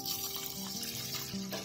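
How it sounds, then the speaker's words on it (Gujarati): Water pours into a pressure cooker holding washed rice for almond kheer, a soft, steady trickle that is quiet and runs for under two seconds with no talk. "અને તેમાં પાણી નાખીશું."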